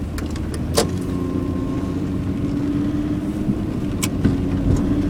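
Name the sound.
car fan running at full speed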